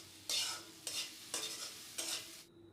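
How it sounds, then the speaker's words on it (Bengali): About a teaspoon of ginger garlic paste fries in a pan, with four separate bursts of stirring and hissing sizzle, each under a second long, close up and with no speech. "আদা রসুন থেকে কাঁচা গন্ধটা চলে যাওয়া পর্যন্ত এটাকে আমি হালকা ভেজে নিব।"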